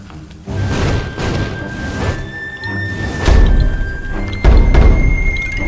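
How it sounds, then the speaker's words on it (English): In the Puppeteer video game, a bomb strikes a glowing taiko drum, setting off a series of heavy, booming thuds and crashing impacts. The strongest two land close together near the end, with whooshes and clatter between them. "Stick a bomb on that glowing taiko drum"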